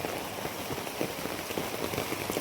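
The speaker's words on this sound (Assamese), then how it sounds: "ইয়াত কিন্তু এনেকৈ বৰষুণ।" Rain falling steadily, pattering on a surface nearby in a dense, even patter with no voices.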